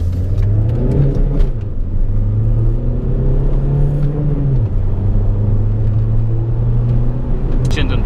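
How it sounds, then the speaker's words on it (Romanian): A car accelerating hard on a motorway, with a loud continuous engine drone whose pitch climbs and shifts with the gear changes over steady road rumble inside the cabin. "vreau să mai fac câteva reprize de accelerații"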